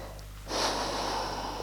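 A person breathes deeply in a yoga forward bend, one loud, close, airy exhale rushing out after a brief quiet start and carrying on steadily to the end.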